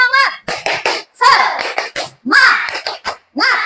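A class of children chanting together in a rhythmic clapping cheer, sharp hand claps punctuating their voices in short bursts, close and lively, with the children's voices dominant throughout.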